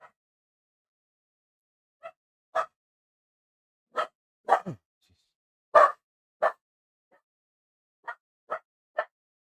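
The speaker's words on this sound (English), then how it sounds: "sorry about the dogs. I don't know what to tell you about that." Big dogs bark in short separate bursts, about ten sharp barks spread unevenly against near silence, some in quick pairs.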